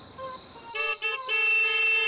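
A car horn honks close and loud, one short toot followed by a longer sustained blast.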